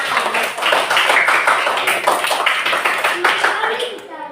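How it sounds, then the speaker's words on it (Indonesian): A group of people, likely schoolchildren at an Indonesian gathering, clapping hands in a quick, loud, uneven burst that lasts about four seconds, with voices mixed in. "Tepuk tangan."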